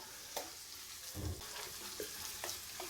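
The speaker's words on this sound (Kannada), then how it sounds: "ಆಯಿಲ್ ಬಿಸಿ ಆದಮೇಲೆ ಸ್ಪೈಸಸ್, ನಂತರ ಆನಿಯನ್ನ ಆ್ಯಡ್ ಮಾಡಿಕೊಡ್ತಾ ಇದ್ದೀನಿ" Onions and spices fry in hot oil for a chicken fry, a soft steady sizzle with occasional stirring clicks and scrapes, fairly quiet and close.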